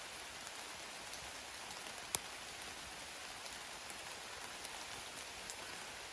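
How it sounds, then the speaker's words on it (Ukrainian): Rain patters steadily on the leafy forest canopy overhead in summer. It makes a soft, even hiss from above, with one sharper drip standing out near the start. "Дощ там шумить вверху."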